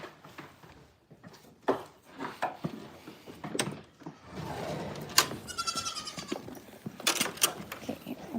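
Goats bleat on a farm, with a few short calls and one longer, clear bleat near the middle, mixed with close wooden knocks and clatter. No one speaks.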